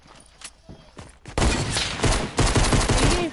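Gunfire in the Sniper Shootout video game: a few scattered sharp shots and clicks, then a loud, dense burst of rapid continuous firing that carries on to the end.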